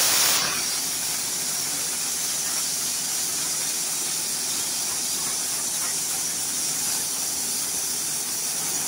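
A pressure cooker lets off steam while masoor dal cooks on a gas stove, a loud, steady, close hiss that starts abruptly and holds unbroken to the end with no one talking.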